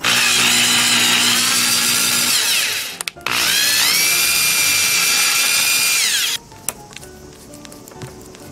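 A power tool cuts into aluminium while an M3 thread is tapped after a 2.5 mm pilot hole, giving a loud, steady high whine that dips briefly near the three-second mark, resumes, then stops, leaving faint clicks and handling noises.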